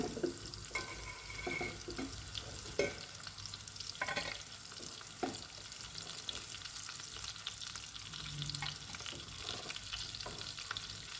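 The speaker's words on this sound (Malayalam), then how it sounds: "ഹാഫ് വശവും മറിച്ചിട്ട് മൊരിച്ചെടുക്കുന്നുണ്ട്" Fish frying in hot oil for a Kerala fish molee, flipped to crisp both sides, giving a steady quiet sizzle with occasional scraping and clinking of a utensil in the pan.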